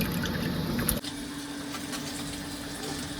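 Small fish being washed in water, with a steady rush of running water and splashing close by that continues throughout.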